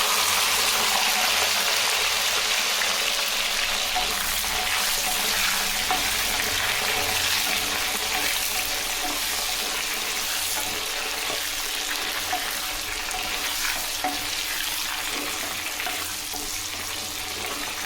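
Eggplant pieces and curry leaves with fennel sizzling in hot oil in a pan, a steady loud crackling fry that carries on continuously with no talking.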